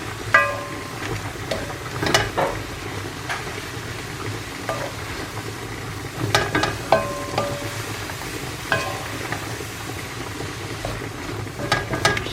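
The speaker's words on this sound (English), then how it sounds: "and now my tuna. And I'm just going to toss it until the tuna is cooked" Tuna chunks are tossed and stir-fried in a pan, giving a steady sizzle broken by scattered clinks and scrapes of a utensil against the pan over about twelve seconds, with no talk.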